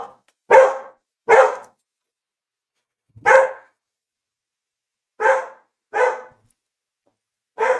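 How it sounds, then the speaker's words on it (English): A dog barks indoors in single sharp barks, six spaced out over several seconds with silence between, close and clear. "What are you barking at?"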